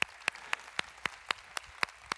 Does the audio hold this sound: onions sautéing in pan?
no